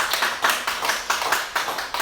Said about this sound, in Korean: 앞으로의 삶이 지금까지 살아왔던 삶보다 더 아름답게 되기를 우리 기도하는 마음으로 박수를 칩니다